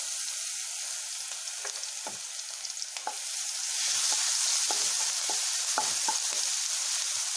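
Crushed green chili, garlic and ginger sizzle steadily in hot oil with cumin, a soft continuous frying hiss broken by small pops and faint stirring clinks.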